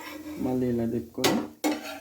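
A utensil scrapes and clatters against a pan as dosas are flipped and turned while roasting, a short close sequence of metallic scraping followed by two sharp bright clinks, with no speech.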